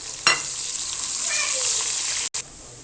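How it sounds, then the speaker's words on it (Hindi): A single onion frying in hot oil after cumin seeds, a loud close steady sizzle with a sharp burst as it hits the oil, briefly cut out near the end. "हमारे ये 1 अदद प्याज है, हम इसको अपने ऑयल में डाल देंगे"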